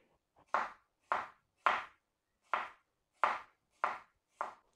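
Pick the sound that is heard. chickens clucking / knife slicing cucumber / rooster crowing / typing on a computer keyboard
knife slicing cucumber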